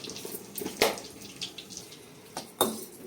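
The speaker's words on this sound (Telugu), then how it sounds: "కొద్దిగా మంచి ఫ్రెష్ ఉన్న కొత్తిమీర కూడా శుభ్రంగా కడిగేసి" Fresh coriander leaves being rinsed by hand in water, with running tap water and splashing in uneven bursts and a couple of louder sloshes.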